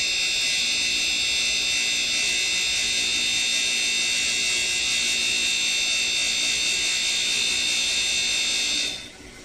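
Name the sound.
tool grinder sharpening end mill flutes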